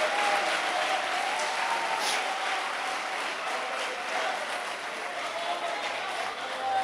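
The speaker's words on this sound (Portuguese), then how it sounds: "Se você vai aplaudir, aplauda forte, bonito, para Ele, para Jesus." A church congregation applauds steadily, a dense sustained wash of clapping from many hands, with faint voices and a held tone underneath.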